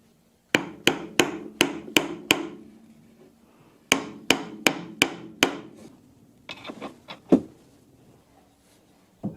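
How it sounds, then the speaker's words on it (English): A hammer drives a lathe drive spur into a block of wood, giving a quick run of six sharp knocks, a pause, five more, then a few lighter irregular taps, all loud and close. "and hammering in the drive spur."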